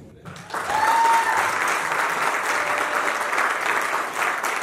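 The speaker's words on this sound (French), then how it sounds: "On applaudit, s'il vous plaît." Guests at a civil wedding applaud, a sustained, dense round of clapping that swells quickly and stays steady, with a brief whistle or voice near the start.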